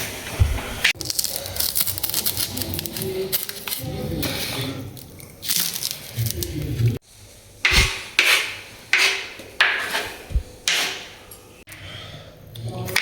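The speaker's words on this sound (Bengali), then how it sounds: "রসুনটা কাটলাম।" Knife chopping garlic on a board in a home kitchen, a steady series of gritty rasping cuts followed by a run of sharp, evenly spaced thuds, close and fairly loud, with occasional background voice.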